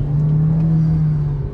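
A Volkswagen Virtus GT engine drones under full acceleration from inside the car, a loud, steady, close hum holding one pitch with no speech over it.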